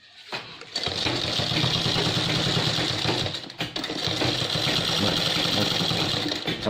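An electric sewing machine in a garment workshop stitches a doctor's apron, starting up after a short quiet moment and then running at a steady, close, whirring hum with a brief pause midway.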